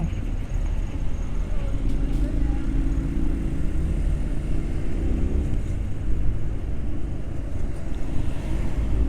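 Busy road traffic with trucks rolling past on the Kendal–Boja route via Kaliwungu through a protected forest: a steady, dense low rumble of engines and tyres that continues without a break for the whole stretch.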